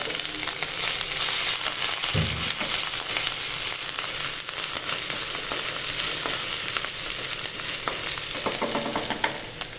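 Chopped garlic sizzles steadily in a hot pan while a spoon scrapes and stirs it, with a short louder scrape near the start; close and continuous, no voices.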